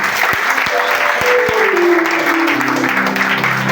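A church congregation claps and cheers in acclamation of the Lord during a prophetic worship service, a loud, dense wash of applause with tones like voices or an instrument rising and sliding through it.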